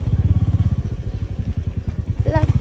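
Motorbikes roll up nearby, their engines thudding in a fast, pulsing rhythm that swells and dips, with a person talking briefly over the engine noise toward the end.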